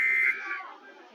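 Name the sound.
fake EAS emergency alert alarm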